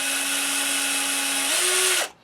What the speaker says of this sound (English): I have my drill here with the right size bit selected